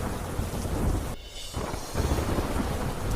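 Heavy rain pouring down in Gujarat with rumbling thunder, a dense continuous roar of rainfall that briefly thins before returning at full strength.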